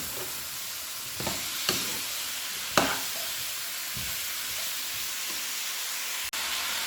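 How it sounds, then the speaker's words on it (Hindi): Chopped turnips fry in spiced masala in a pan over high heat, a steady close sizzle with occasional sharp scrapes and clinks of a spoon stirring. "इसको तेज़ आंच पर शलजम को मसाले में भूनेंगे"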